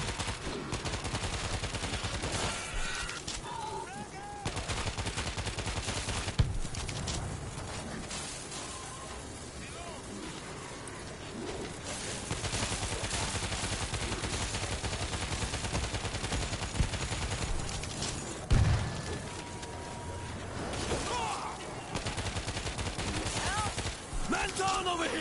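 Sustained gunfire rattles through a World War Z match, dense bursts and volleys running almost continuously with brief lulls, mixed with game effects and occasional talk underneath.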